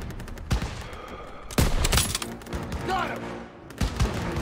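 Rapid bursts of gunfire in the World War II shooter Call of Duty WWII, sharp volleys crackling in quick succession with a heavy thud midway, under excited voices shouting.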